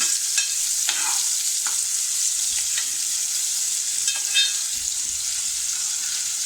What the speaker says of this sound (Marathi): कांदा भाजलेला कांदा असा थोडा लाल रंग येईपर्यंत परतायचा आहे